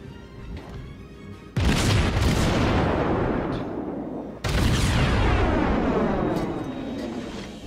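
Heavy naval guns fire two thunderous, booming salvos at an enemy Kuma cruiser in World of Warships, each blast followed by a long rumbling, crackling decay.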